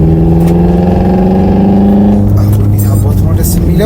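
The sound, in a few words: car engine revving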